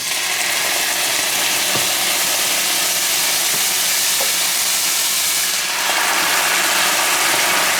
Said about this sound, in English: want to deglaze that pan. Want to get all that fond, all the brown bits off from the bottom